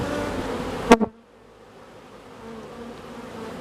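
Honey bees buzz thickly at a hive, loud at first, then a sharp knock, after which a softer, steady hum of insects continues.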